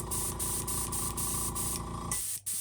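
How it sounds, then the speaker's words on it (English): Steady airbrush hiss blowing air continuously with a low mechanical hum beneath, briefly pulsing, then cutting off near the end. "I'm just blowing a little bit of air through here."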